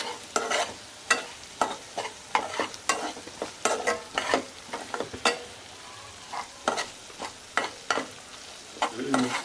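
Turmeric being stirred and sautéed in a pan for Agri-style mutton curry, with repeated scraping stir strokes at an uneven rhythm over a soft, steady background sizzle, close and moderately loud, no voices.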